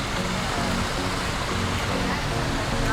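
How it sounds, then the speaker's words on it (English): Waterfall at a hotel pool area in Pigeon Forge, Tennessee, a steady loud rushing wash of falling water close by, continuous throughout with faint voices mixed in. "And a waterfall. That is cool. I like the waterfall."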